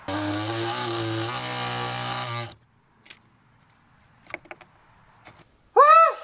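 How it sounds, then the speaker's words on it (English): A power saw cuts fiberglass with a loud, steady buzzing whine for about two and a half seconds, then cuts off. Faint scattered clicks and knocks follow, and a brief squeaky burst comes near the end. "We're only cutting fiberglass."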